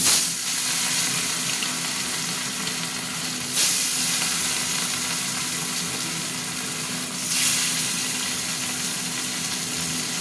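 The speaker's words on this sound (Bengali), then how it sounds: "সর্ষের তেল দিয়ে দিলাম, মাছ ভাজবো। তেলটা গরম হতে থাক। তেল গরম হয়ে গেছে, এবার মাছগুলো দেবো।" Rohu fish pieces fry in hot mustard oil with a steady, close hiss and crackle that surges briefly twice as more fish goes into the pan, and no one speaks.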